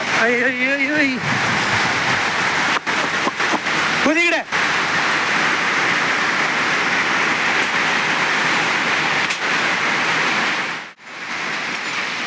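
Heavy rain pours down steadily and loudly, a dense continuous wash filling the whole clip, with voices talking briefly over it near the start and middle.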